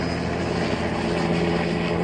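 Helicopters flying overhead at a protest site, heard as a steady, loud rotor and engine drone that fills the whole stretch without a break or any voices.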